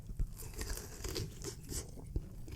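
Crunchy bites and chewing on a fried Indian snack stuffed with potatoes and vegetables, close and fairly quiet, with a few sharp crisp snaps amid soft mouth sounds.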